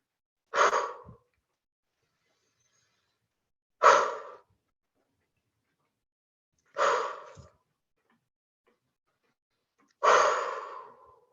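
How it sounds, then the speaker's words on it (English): Four slow, deep breaths drawn in and let out during a guided relaxation exercise, spaced roughly three seconds apart, close and clear against silence with no talking. "we have to take a deep breath in to get up to the top of the first mountain"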